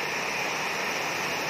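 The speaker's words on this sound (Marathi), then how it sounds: "लय पाऊस आहे, लय म्हणजे लय पाऊस आता." Heavy rain pours down in an even, unbroken hiss, fairly loud and close, a constant wash with no voices over it.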